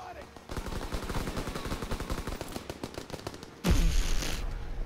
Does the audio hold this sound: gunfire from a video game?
yes